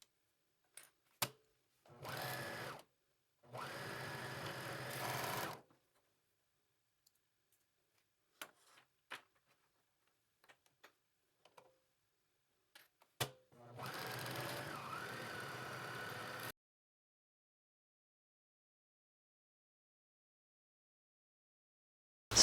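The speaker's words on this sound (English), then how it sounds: "now we're going to go to our sewing machine, and with the stretch stitch, zigzag, or serger, we're going to sew down either side seam" Sewing machine running a stretch, zigzag or serger stitch down the side seams of a knit tank, heard in three steady bursts of a few seconds each, separated by quiet pauses with faint clicks and handling noises and no talking.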